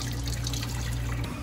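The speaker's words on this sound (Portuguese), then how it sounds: "aqui a água, ó. Água com gás." Carbonated mineral water pours steadily from the Fonte Dom Pedro spring tap in Caxambu, a continuous close, even splashing flow with a low hum underneath.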